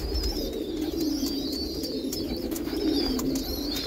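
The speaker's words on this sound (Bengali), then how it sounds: "বাদিকে যে পায়রাটা ছটফট করছে" A pair of Andhra pigeons coo in soft repeated throaty rolls, close and steady, with thin chirps and light flutter noises over a constant low background hum.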